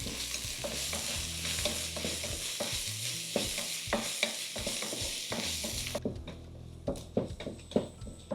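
Onions sauté with salt in a pan for prawn biryani, a steady sizzle broken by frequent scraping stirs of a spoon, loudest and most clattery near the end.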